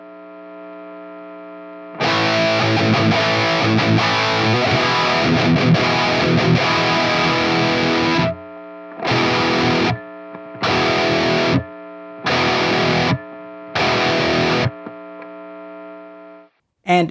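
An electric guitar with a Gibson H90 pickup plays through heavy distortion, one long sustained chord followed by four short chopped bursts, with mains hum in the gaps between them.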